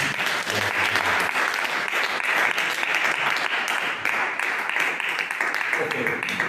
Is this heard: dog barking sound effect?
no